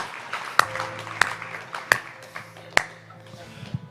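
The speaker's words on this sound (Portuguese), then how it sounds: "Muito bom, eu mesmo vou aplaudir." A man applauds himself, four sharp, loud hand claps spaced roughly evenly, with him speaking between and around them.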